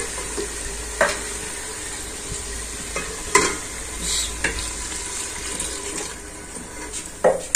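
Meat fries in a hot pan with a constant close sizzle, broken by scraping stirs and occasional louder clatters of the spoon against the pan.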